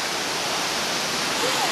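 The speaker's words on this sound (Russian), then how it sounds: "Это был просто дикий горный водопад." The wild Dzhur-Dzhur mountain waterfall in Crimea roars steadily, a loud, close, unbroken wash of falling water.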